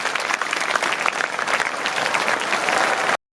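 Loud, dense applause fills the hall as an audience celebrates chemistry scores at a 2023 Class 12 science results event, sustained throughout and then cut off abruptly.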